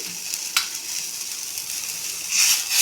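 Semolina (rava) fries in ghee in a pan for rava kesari, giving a steady, close hissing sizzle that swells louder near the end, with a couple of soft stirring clicks and no voices.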